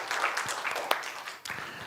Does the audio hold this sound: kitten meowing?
no